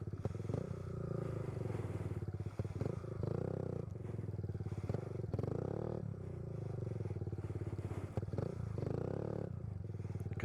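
A Honda Z125 Pro with a very light clutch runs steadily nearby, a continuous low buzzing engine note that swells and dips slightly over about ten seconds, with no talking.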